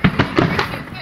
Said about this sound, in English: 4th of July fireworks.